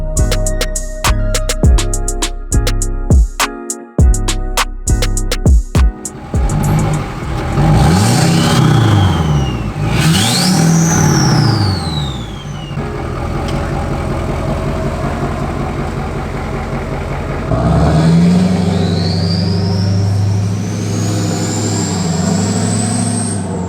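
A diesel pickup truck that rolls coal rumbles loudly as it is parked, with a clattering, uneven start giving way to sustained revving, rising and falling engine pitch, and heavy low idle, close and continuous.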